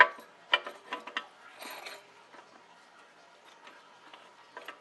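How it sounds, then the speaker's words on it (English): A low reverse clutch spring compressor clicks and ratchets as it seats a snap ring inside a 700R4 transmission. A few sharp close metallic snaps come early, then fainter scattered ticks. "Now we're going to install our snap ring using our low reverse clutch"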